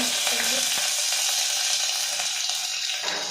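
Dry red chillies, mustard seeds, cumin and onion sizzle in hot oil, a loud, dense, steady hiss close by with faint stirring scrapes throughout.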